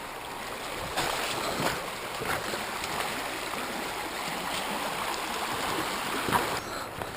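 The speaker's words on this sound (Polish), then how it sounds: "Tutaj jest taki trochę bardziej wartki strumyk." A fast-flowing mountain stream in the Valbona area, a steady broadband rush of water that sounds close and continuous, with no speech.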